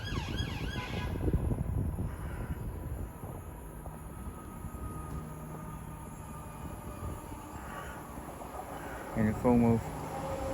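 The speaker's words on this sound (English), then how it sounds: "Soon to arrive in now will be the delayed 12:38 Great Western Railway service from London Paddington to Bristol Temple Meads." Great Western Railway train, the delayed London Paddington to Bristol Temple Meads service, arriving at Didcot Parkway station: steady low rumble of rolling stock with brief tonal horn-like notes near the end, under a station announcement voice.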